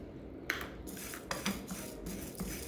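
Sharp crunches sound as crunchy roasted horsegram is bitten, several irregular cracks up close with no voices.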